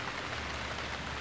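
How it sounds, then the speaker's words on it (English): Rain pours steadily off a metal roof and runs into muddy gullies, a dense, even hiss of water that holds constant throughout without any voices. "the sound of rain pouring off the metal roof"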